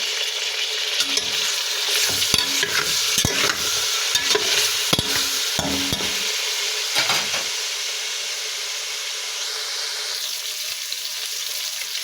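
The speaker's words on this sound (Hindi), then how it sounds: "फिर इसमें लहसुन अदरक पेस्ट डालेंगे।" Loud sizzling of garlic-ginger paste frying in hot oil, with crackling spatters and a few stirring scrapes, then settling into a steadier hiss.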